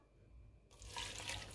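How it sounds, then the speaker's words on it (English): A small amount of water is poured into a blender jug with green smoothie ingredients, a steady splashing pour that starts abruptly and continues close and fairly quiet. "I'm going to be adding a little water to it to blend this"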